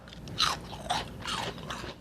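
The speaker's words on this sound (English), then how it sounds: "A fried lemon, and just listen to the crunch." A fried, battered lemon slice is bitten into with a loud, crisp crunch, followed by a few rougher crunches of chewing, close up with no talk.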